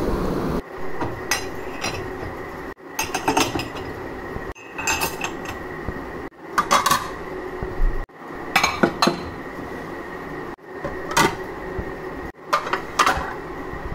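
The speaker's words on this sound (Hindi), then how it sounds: "अभी ये थोड़े से बर्तन रहते हैं, इन्हें भी जल्दी से सेट करके रखते हैं" Dishes, pots and pans being set away in a home kitchen, a string of loud metallic clanks and clinks in repeated bursts separated by short pauses, close by with no talk.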